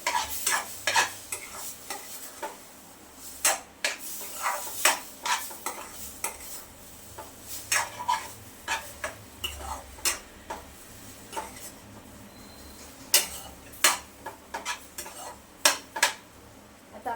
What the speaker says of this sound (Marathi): दूध आपल्याला गरम गरमच घालायचंय आणि गॅसची फ्लेम आपल्याला एकदम बारीक करून दूध घालायचंय